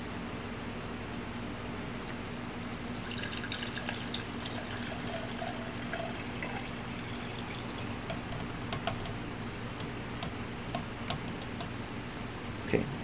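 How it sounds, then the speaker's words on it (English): Hydrogen peroxide pours steadily into a blender in a quiet room, faint and even, with scattered small ticks and clicks throughout and no talking. "you're going to pour in the hydrogen peroxide"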